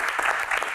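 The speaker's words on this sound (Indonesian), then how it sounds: "Tepuk tangan dulu." Brief burst of audience applause during a badminton player's Q&A event: a short, dense patter of clapping at even loudness.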